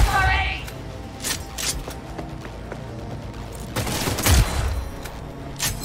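Gunfire bursts from the video game Cyberpunk 2077 crack out in scattered volleys, one heavier blast near the end, under a voice talking over the game's background sound.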